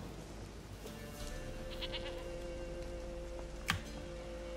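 A goat in The Witcher 3 bleats faintly a few times over a quiet game ambience, followed by a brief sharp click near the end.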